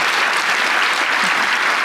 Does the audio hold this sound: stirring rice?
no